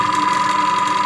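A tankless airbrush compressor runs without pause, giving a loud, close, steady mechanical whir with a faint rapid pulsing rhythm and no other sounds.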